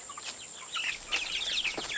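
Young Ranger chickens, energetic and plump at about 1.5 pounds, chirp and cluck in short scattered high calls over a steady faint hiss, with no talk.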